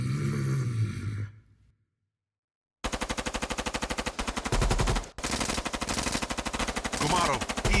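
Gunfire sound effect in a voice-acted audiocomic, sustained rapid machine-gun bursts after a brief silence, loud and dense, with a heavy thud midway.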